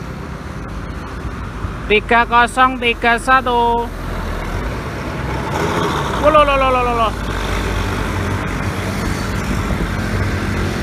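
A bus passes on the road near the Bawen toll exit, sounding two bursts of rapid, melodic horn blasts that stand out clearly over steady traffic rumble, with voices in the background.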